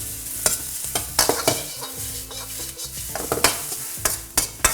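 Onions tossed and stirred in a hot wok, sizzling and frying with repeated scraping clatters from the push-and-flick motion, close and steady, no talk.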